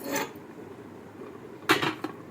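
A metal lid and weight go onto an egg biryani pot, making a short clatter, then a louder metallic clank with a quick follow-up tap in a quiet kitchen.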